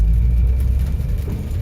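Steady low rumble of a manual stick-shift car with over 100,000 miles pulling onto a road, engine drone continuous and close with no talking.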